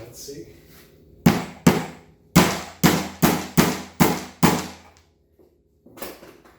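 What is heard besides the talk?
pulling a nail out of wood with a nail removal tool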